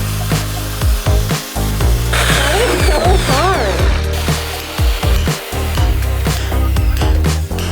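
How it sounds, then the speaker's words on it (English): A rotary hammer, called a bore hammer, drilling into a brick wall in a 75-year-old house in Germany, with repeated loud bursts of hammering and grinding cut by short pauses, and a voice talking over the work. "This is called a bore hammer, and if you need to drill into a brick wall"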